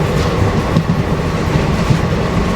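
Gwalior Barauni Mail train running on rails, heard from inside a second AC coach: a loud continuous rumble with rhythmic clickety-clack of wheels over rail joints, steady throughout with no talk.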